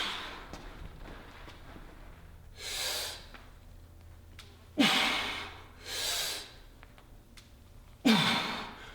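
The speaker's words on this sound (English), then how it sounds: "I need to take a big diaphragm breath before I go down. And exhale as I come up." Heavy diaphragm breaths taken before a barbell squat: sharp deep inhales followed by long, forceful exhales, repeating about three times with quieter breathing between, close and alone.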